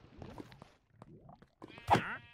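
Sheep bleating in Minecraft, a few short synthetic bleats spread over a couple of seconds, with the last one louder and closer.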